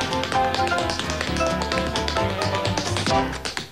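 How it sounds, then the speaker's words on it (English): Tap dancing from a 1993 Hershey's Kisses chocolate commercial, quick crisp taps clicking in a steady busy rhythm over a bright, full musical backing, loud and close, with no talk. "So you can hear them tap dance."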